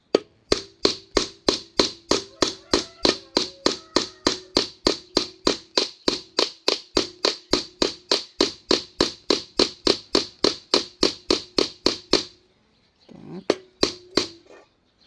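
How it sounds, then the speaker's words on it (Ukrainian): A hoe blade's edge being peened with a hammer, sharp metallic blows ringing at a steady, fast rhythm for about twelve seconds, close and loud, then a short pause and a few more strikes. "І починаємо клепати."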